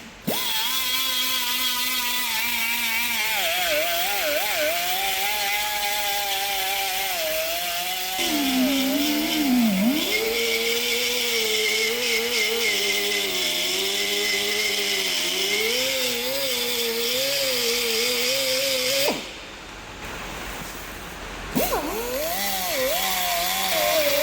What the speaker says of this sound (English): I am going to use a die grinder now because it gives me better visibility to see what I'm doing